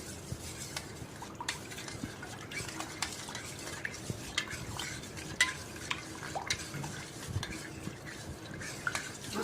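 A spoon clinks repeatedly against a glass while aam panna, a raw mango drink, is stirred, soft irregular taps over quiet background noise.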